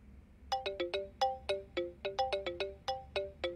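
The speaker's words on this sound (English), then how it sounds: "is this your ringtone too?" A cell phone ringtone from the video game Judgment plays a quick, bright melody of repeated chiming notes, clear and close, with no talk over it.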